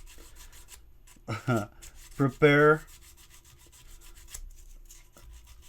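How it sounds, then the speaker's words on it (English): A resin Xenomorph Queen vs. Predator model kit is sanded by hand, with a few short scraping strokes in quick bursts close up. A brief spoken word comes between the strokes in an otherwise quiet room. "sand this corner right here, make that flush as well"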